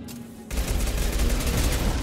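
Enemy big cannon shockwave blast in Mass Effect Legendary Edition, a sudden heavy boom that cuts in after half a second of quiet and rolls on as a loud, sustained rumbling roar.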